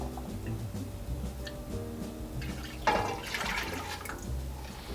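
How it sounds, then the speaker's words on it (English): Milk and half-and-half poured into a cooking pot for mac and cheese, a low gurgling liquid pour that swells into a louder splashing rush partway through, with no talking. "After our milk's been poured in, the half and half's been put in"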